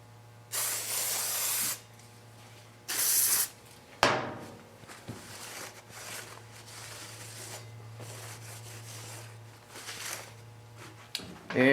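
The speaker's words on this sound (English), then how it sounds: "I'm going to spray around the disc just to clean up any grease or dirt" Two sustained hisses of aerosol cleaner sprayed onto the front brake disc of a 2009 Kawasaki motorcycle, each lasting about a second, then scraping and rustling of handling, with a steady low hum underneath.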